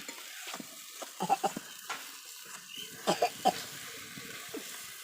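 Fish cooking down in a pan for a spicy bagar fish jhal, a faint low sizzle broken by clustered spatula scrapes and clinks against the pan, quiet and close with no voices.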